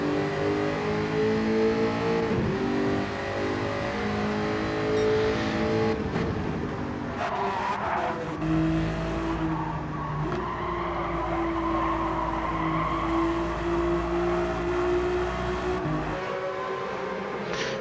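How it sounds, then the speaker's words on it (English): A Jaguar race car engine drones steadily at high revs at Fuji, its pitch rising and falling as it accelerates through gears, loud and continuous with no voices. "God, that car sounds good."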